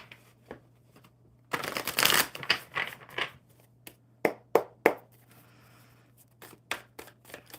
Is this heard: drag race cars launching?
no